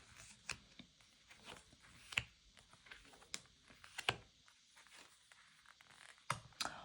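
Tarot cards shuffled by hand during a fortune-telling reading, a quiet run of soft papery riffles and flicks with a few sharper snaps standing out, close and alone without talk.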